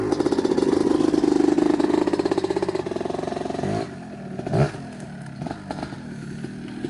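A 1991 Kawasaki KDX250 two-stroke off-road motorcycle revs close by with a rapid, buzzing pulse that rises, then drops off to a rougher idle with a brief blip.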